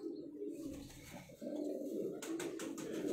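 Pigeons cooing steadily in a breeding loft, low rolling coos close by and continuous, with a brief flutter of higher sound toward the end.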